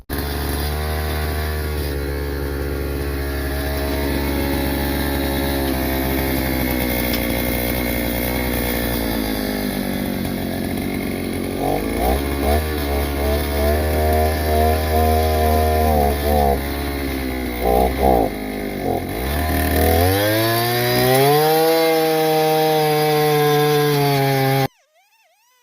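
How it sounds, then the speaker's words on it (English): A Powermate PEA438 gas earth auger with a newly installed carburetor drills mailbox post holes. Its small two-stroke engine roars steadily and close for about 25 seconds, revving and bogging as it bites into the soil, then cuts off abruptly. "I'm gonna go ahead and use the auger with the new carburetor installed and drill these holes"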